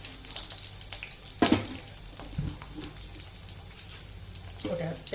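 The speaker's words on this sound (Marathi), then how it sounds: "तेल तापलं की त्याच्यामध्ये बॉईल केलेलं अंडं आहे ना, ते पण टाकून असं चांगलं भाजून घेणार आहे." Boiled eggs fry in hot oil in a pan, giving a low steady sizzle with soft crackles and a few sharper spatters, partly under a voice talking.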